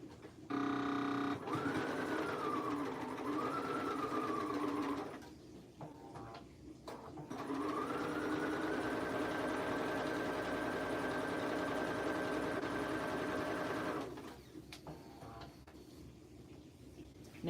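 A sewing machine stitches a half-inch hem on a plus-size fall wedding guest dress, running in two steady sustained bursts with a short pause between them, close and fairly loud with no talking.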